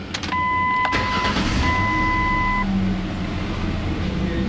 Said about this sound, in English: These timing chains on these things always make noise.